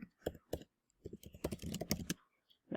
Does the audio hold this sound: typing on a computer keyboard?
yes